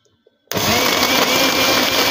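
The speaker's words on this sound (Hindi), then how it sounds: "अब इसे ग्राइंड करेंगे।" A blender grinding chutney starts abruptly after a short near-silence and grinds at a steady loud whir until the end.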